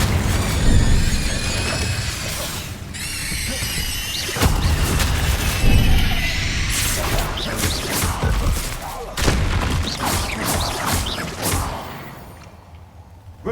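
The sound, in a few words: Incendio fire spell in the video game Hogwarts Legacy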